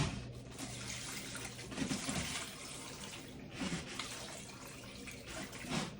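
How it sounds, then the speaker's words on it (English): Tap water pours steadily and splashes into a crockpot holding chicken stock ingredients, a continuous close rushing flow with slight surges. "now we're just gonna top it off with water so everything's covered"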